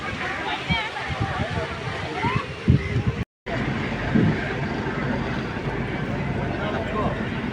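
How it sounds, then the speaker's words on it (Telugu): A vehicle ferry carrying cars, bikes and auto-rickshaws at Fort Kochi, Kerala: its engine rumbles steadily under sloshing water, with people talking over the noise nearby. "కార్లు, బైకులు, ఆటోలు, ఇట్లా లైట్ వెహికల్ అన్నీ తీసుకెళ్ళే ఫెర్రీ."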